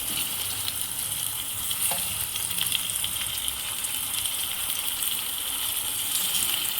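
Half a kilo of cleaned country chicken sizzles steadily in a pot for a chicken soup, a constant bright frying hiss close up with no talking.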